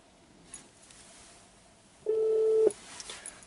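A phone call placed through a car's CarPlay system, with a single steady electronic ring tone sounding for about half a second over quiet cabin background.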